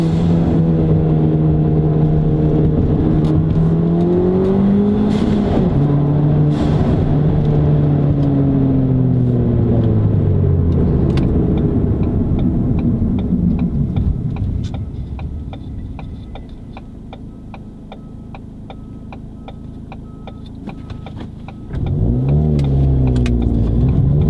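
A Ford Fiesta ST fitted with an MRX turbo kit, running a 91-octane tune, driven from inside the cabin: loud revving climbs through gears, then the engine quiets to a low idle with steady ticking before pulling away again.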